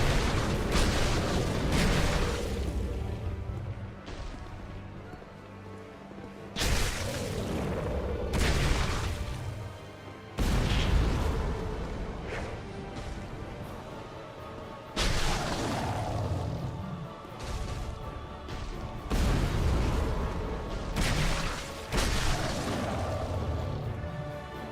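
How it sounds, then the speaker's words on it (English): A dragon boss in Dark Souls 2 unleashes fire breath, heard as a series of heavy roaring blasts and booming bursts with long rumbling tails, repeating every few seconds, loud and without speech. "that's the flame breath"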